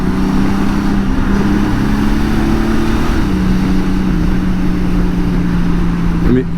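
Motorcycle engine pulling hard in sport mode, a steady buzzing drone that holds and shifts pitch slightly, loud and close throughout, ending with a quick rev.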